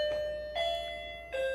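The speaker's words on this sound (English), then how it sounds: "that's the doorbell" A doorbell chimes three times in quick succession, each strike a clear ringing tone that lingers and decays. Fairly faint, with no one talking.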